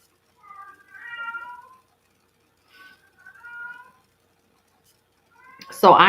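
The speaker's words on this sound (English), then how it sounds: "Now the cat's talking." A cat meows several times, drawn-out cries separated by quiet gaps, followed at the end by a sudden loud burst.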